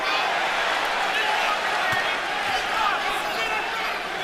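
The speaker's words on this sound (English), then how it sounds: "And now the crowd is chanting," A boxing arena crowd at a Golovkin vs Jacobs bout roars in a steady, dense wash of chanting for Daniel, loud and continuous throughout with no gaps.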